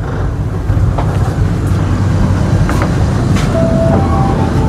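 The Banyubiru Ekspres train stands stopped at Brumbung station, filling the carriage with a steady, loud low rumble and hum, plus a few faint squeaks and a thin tone near the end.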